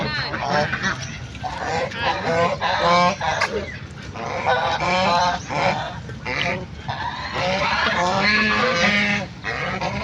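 Loud, continuous honking quacks from a crowd of ducks at a zoo, overlapping and close by, with no pauses.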